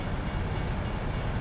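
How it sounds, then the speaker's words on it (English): A train passes in American Truck Simulator, giving a steady, moderately loud rolling rumble that holds evenly through the short moment with no talk over it. "There's a train coming now."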